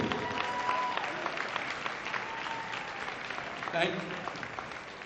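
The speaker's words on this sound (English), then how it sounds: "how about a round of applause for the committee?" Hall of Fame induction ceremony audience giving the committee a round of applause, continuous dense clapping filling the room at an even level, with a brief louder swell near the end and no speech over it.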